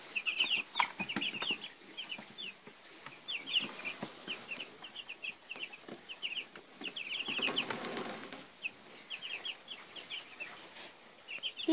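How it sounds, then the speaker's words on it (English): Young chicks indoors in a sawdust-bedded brooder peep in rapid high chirps throughout, with soft clucks and scratching rustles nearby and no talking. "These chicks are so cute."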